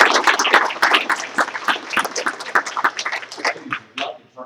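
Scattered audience clapping at a school board meeting, uneven individual claps fairly close by, with brief voices mixed in near the end.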